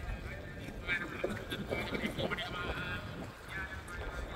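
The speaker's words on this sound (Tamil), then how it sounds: "இதில் நிற்க நல்ல காற்று, கடற்கரை தானே" Steady gusty wind buffets the microphone on a beach at Nainativu island, a broad continuous rush with faint voices underneath.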